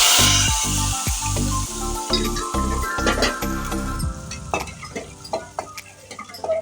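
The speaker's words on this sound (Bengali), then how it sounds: "এবার নেড়ে নেব ঢেলে দিলাম" Janmashtami khichuri stirred in a cooking pot with a spoon: a quick run of loud, rhythmic scraping strokes, then a softer sizzle with light clinks of utensils; nobody speaks.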